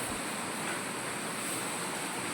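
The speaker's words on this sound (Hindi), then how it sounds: "क्योंकि बारिश बहुत तेज है" Heavy rain pours down in a dense, unbroken roar of broadband hiss, loud and constant throughout with no voices.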